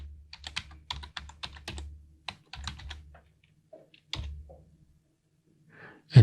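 A password being typed on a computer keyboard, a quick run of close, crisp key clicks in uneven bursts with short pauses between, ending on a firmer keystroke.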